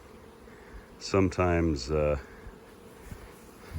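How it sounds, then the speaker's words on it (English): Honey bees hum in a low, steady buzz around nuc hive boxes in a home apiary yard, with a brief spoken word partway through. "Bees are happy, they're in a good mood."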